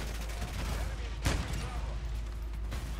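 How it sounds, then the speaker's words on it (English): Sniper rifle fire in a video game, one sharp shot standing out amid a busy layer of continuous game noise and other gunfire, with a voice talking over it. "Ooh, sniper rifle."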